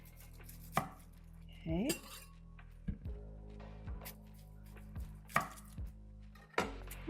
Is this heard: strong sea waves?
no